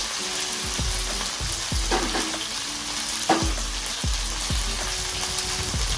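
Vegetable curry with broad beans, okra, tomato, raw mango and curry leaves stirred in a pan, a steady sizzle punctuated by rhythmic low spatula knocks against the pan about once a second, close and clear, no voices.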